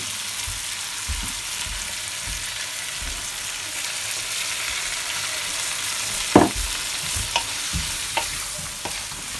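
Shrimp with seasoning and food coloring fry steadily in a pan for Jamaican peppered shrimp, a constant close sizzle with a few scraping stirs and clicks near the end.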